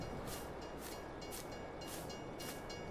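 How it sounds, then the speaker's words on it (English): A train rolls past in the farming game Farming Simulator 22, a steady loud rumble with rhythmic bursts of clatter recurring every second or so, filling the whole stretch with no talk. "Oh, train's coming now"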